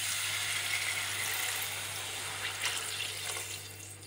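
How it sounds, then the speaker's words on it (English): Water is poured into a pan of potatoes and soy sauce, giving a continuous splashing, running-liquid rush that tapers slightly toward the end, with a low steady hum beneath. "And along with soya sauce, we will add in some water."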